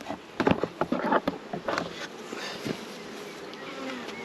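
Honey bees crowd onto a queen cage during a masking-tape queen introduction, buzzing close and steadily, with sharp knocks and handling clicks from the hive in the first two seconds.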